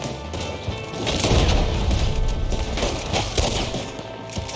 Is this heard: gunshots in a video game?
yes